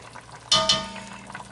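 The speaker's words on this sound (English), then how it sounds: "We'll mix these into our cooking liquid" Honey is stirred into the cooking liquid around a simmering pork loin: two quick spoon scrapes and clinks over a soft bubbling sizzle.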